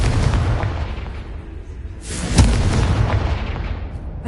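A booming Confringo spell blast in Hogwarts Legacy, a close, powerful explosion with a sudden bright crack midway, heavy low rumble before and after, and no talking.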